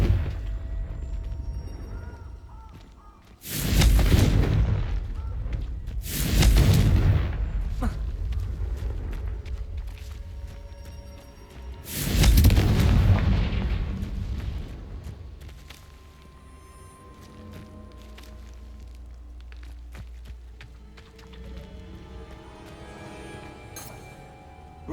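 Confringo fire blast spells bursting in Hogwarts Legacy, three loud, booming explosions a few seconds apart, each rumbling and decaying slowly, with a quieter ambient stretch afterward.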